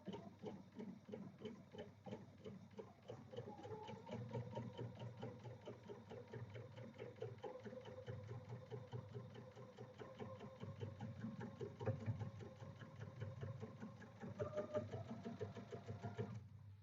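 A freshly oiled sewing machine runs a steady, fast stitching rhythm, a rapid mechanical chatter held for several seconds with slight speed shifts, fairly close and on its own.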